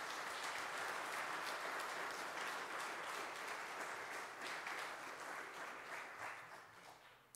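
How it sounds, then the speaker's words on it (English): A big round of applause at an anniversary celebration held as a worship gathering. Steady, sustained clapping from a large crowd carries on for several seconds at a distance before gradually thinning toward the end. "I would like you to give him a big round of applause"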